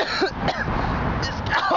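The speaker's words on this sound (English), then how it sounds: "This cough is killing me." Someone coughs, roughly and breathily, a few times in short bursts across a noisy outdoor background during a run or training session.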